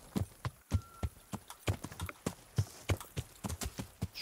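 Horse hooves clip-clop at a steady walking pace in the medieval video game Kingdom Come: Deliverance, with sharp, evenly spaced thuds heard close and alone.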